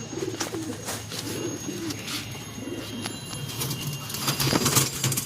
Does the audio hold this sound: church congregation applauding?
no